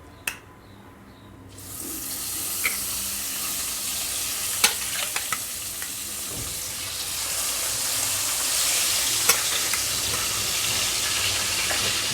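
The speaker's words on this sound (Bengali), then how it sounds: "মাছটা আগে ভেজে নেব একটু হালকা করে" Jeol fish fry lightly in oil in a pan, a loud, continuous hiss that swells in after a quiet start and holds steady, with a few sharp utensil clicks on top and no talking.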